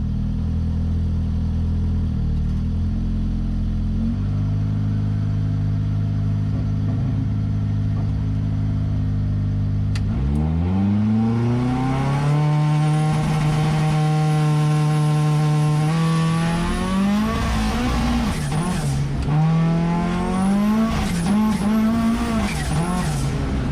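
A turbocharged Mitsubishi Colt at 35 psi idles with a deep rumble, then launches into a loud drag racing pass, engine climbing through gears in rising whines, with tire noise and whistling near the end.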